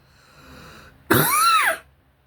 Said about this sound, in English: I'm sorry if I'm coughing so much.